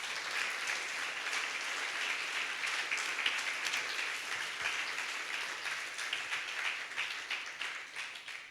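A church congregation applauds during a sermon, a sustained wash of moderate clapping that continues evenly for several seconds before tapering slightly at the end.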